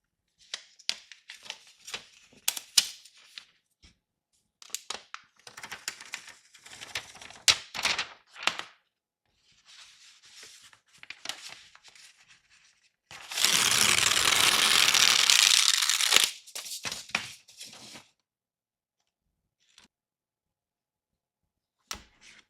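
Scattered small crackles and clicks, then a long, loud ripping hiss of protective plastic film peeling off an 11-inch iPad Pro M5 for a few seconds, followed by faint handling noises.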